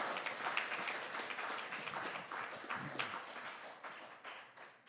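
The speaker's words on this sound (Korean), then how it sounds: "또 귀한 강의를 해주신 우리 변재진 목사님과 정정원 목사님에게 감사의 박수 한번 드리겠습니다." A church seminar audience gives the speaking pastors a steady round of applause, many hands clapping together at a moderate distance with no talk over it.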